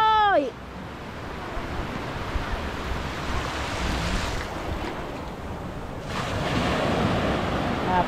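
Sea waves wash steadily onto a beach under gusting wind buffeting the microphone, a continuous loud roar with swells building toward the end.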